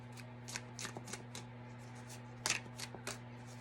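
Tarot cards shuffled by hand for a collective reading, a steady run of soft riffling flicks and slaps with one sharper burst midway, close and fairly quiet over a constant low electrical hum.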